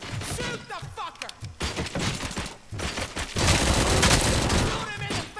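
Gunfire erupts in the video game RoboCop: Rogue City, with loud, rapid bursts and repeated shots, thuds and crashes, and a heavy sustained fusillade in the second half, under occasional speech.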